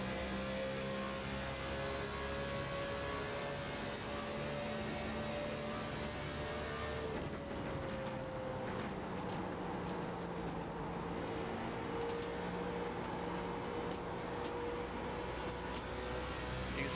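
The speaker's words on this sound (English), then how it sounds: "let's listen to the car here, and you guys can hear what it's doing." A stock race car engine at Chicagoland in an online racing league video game drones steadily at high revs, shifting pitch slightly through corners, loud and continuous with no talking.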